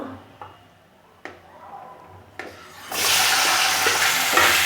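Potatoes stirred in a hot pan for an ethnic Assamese fish dish, a few scraping taps of the spatula at first, then a loud, continuous sizzle of frying that swells and holds to the end.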